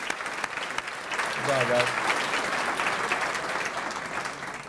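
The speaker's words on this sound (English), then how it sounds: "Let's give another round of applause to everybody." Audience applause at a scholarship lunch event, steady clapping filling the room throughout, with a voice briefly speaking over it.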